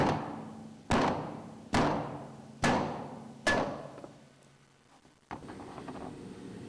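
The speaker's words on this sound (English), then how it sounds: "simply force the disc out of the housing" Several sharp metallic hammer blows strike at a steady pace, each ringing briefly, as a sealing disc is forced out of its housing during a sleeve replacement, followed by a quieter rattle and a low clunk.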